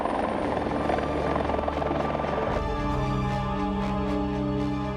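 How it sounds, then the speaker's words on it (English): A search and rescue helicopter hovers over the sea, its rotor thumping steadily with a loud, close engine whine and a shifting buzzing drone. "The SAR chopper drops 2 divers in the water"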